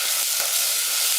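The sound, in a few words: food sizzling in a frying pan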